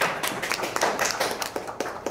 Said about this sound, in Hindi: अब मैं चाहता हूँ इसके लिए ताली आप बजाएं प्लीज।